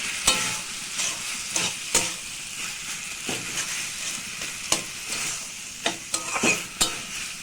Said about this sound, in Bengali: প্রথমে একটু নারকেলটা দেবো, যাতে নারকেলটা একটু ভাজা হয়ে যাওয়ার সঙ্গে